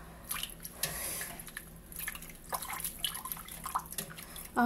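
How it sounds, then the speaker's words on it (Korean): Water drips and trickles off freshly washed acacia flower stems as they are left to drain, a scatter of soft, irregular droplets close by with no talking. "그리고 좀 더 물기를 빼볼게요."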